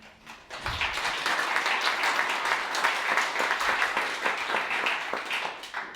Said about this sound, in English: Don't applaud just yet.